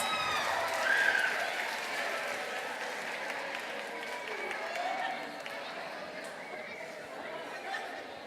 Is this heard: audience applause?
yes